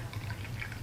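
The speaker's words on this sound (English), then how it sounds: "I have got myself a cup of tea which I must pour" Sencha tea is poured into a hand-thrown pottery cup, a faint, close, continuous trickle of liquid in a quiet room.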